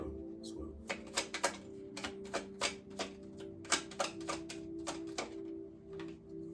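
Tarot cards are shuffled and drawn, producing a run of crisp, close card snaps and riffling taps in uneven bursts over a faint steady hum.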